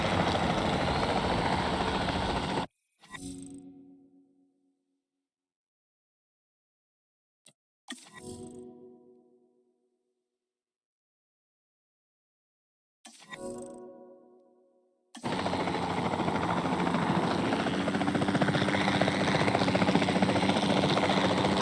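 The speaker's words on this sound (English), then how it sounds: "Then the sensible thing is to take a capture team helicopter." Capture team helicopter in the dinosaur park game Jurassic World Evolution 2, its rotor drone filling the opening and closing stretches, broken by gaps of silence and a few short bursts that fade out.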